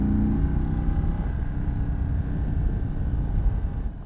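An Indian Chief Limited motorcycle ridden in sport mode, its engine a steady low rumble with wind noise, fading slightly at the end, with no talk.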